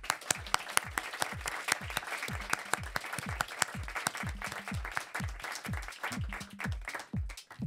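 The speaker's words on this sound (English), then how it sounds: "So please be humble for them and give them a warm applause." Audience applause for storytellers at a storytelling event, a steady wash of clapping with several loud, close individual claps standing out in a regular rhythm, sustained throughout without speech.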